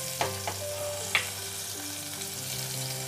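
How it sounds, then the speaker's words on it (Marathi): Chili, curry leaves and tomato fry in a hot oil tempering for a ridge gourd vegetable dish, a steady close sizzle with a few brief sharp spatters and stirring clinks near the start. "या भाजीमध्ये फोडणीला एक मिरची, कढीपत्ता आणि एक टोमॅटो असं आपण घातलंय."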